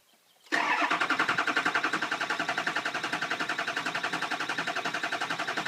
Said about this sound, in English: So I'm going to crank this one and see what we get.